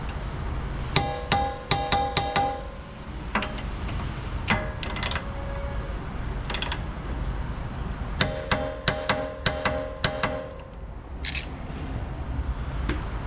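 Brake caliper hanger bolts torqued with a wrench: bursts of sharp metallic ratchet clicks, close and distinct, separated by short pauses over a steady background hum.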